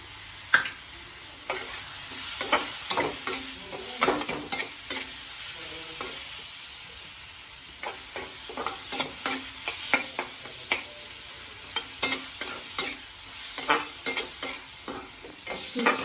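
Potatoes fry in hot oil with a spoonful of cumin seeds in a home kitchen, hissing steadily. A spoon or spatula scrapes and stirs the pan in repeated sharp strokes.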